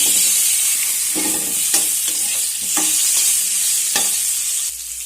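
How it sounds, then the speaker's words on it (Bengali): Potatoes frying in oil in a kadai, a steady loud sizzle with repeated scraping stirs of a spatula against the pan throughout. "এখন আমি এই কড়ার মধ্যে আলুগুলোকে ভেজে নেব"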